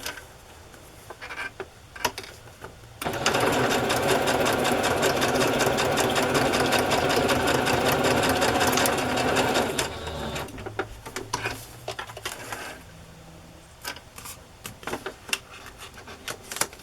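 A sewing machine stitches a row through a paper craft piece in one steady, fast whirring run lasting several seconds, close and fairly loud, framed by quiet handling clicks before and after.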